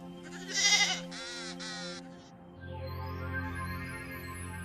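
A sheep bleats in a few wavering, close calls, joined by other farm-animal cries, in the setting of the first balloon flight carrying a cockerel, a duck and a sheep, followed by a steady hum.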